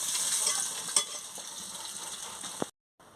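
Fish frying in hot oil for a sea fish curry gives a steady, close sizzling hiss with a couple of sharp utensil clinks, ending abruptly in silence, with no talking.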